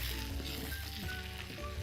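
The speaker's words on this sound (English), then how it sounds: "And now we are going to add the makhani. Sauce directly to the pan. And completely coat the wings with it." Makhani sauce sizzling in a pan as it coats chicken wings, a soft, steady sizzle with faint stirring underneath, no voices.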